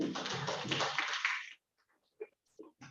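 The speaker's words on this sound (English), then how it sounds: "Now give applause for yourself" A small audience at a provincial skills competition for bilingual secretaries claps together in a brisk, fairly close burst lasting about a second and a half. It cuts off abruptly into silence, followed by a few scattered late claps.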